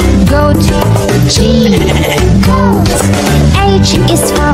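A goat bleats repeatedly in wavering cries over a loud children's alphabet song with music throughout.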